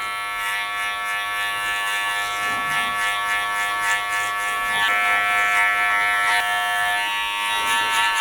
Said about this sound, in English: The clipper over comb